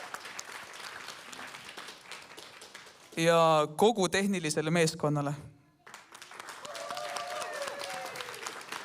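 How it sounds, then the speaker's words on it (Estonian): Concert audience at a Christmas program in the Kose culture center clapping, a steady rattle of hands before someone speaks, then resuming softer afterward. "Aplaus, muidugi."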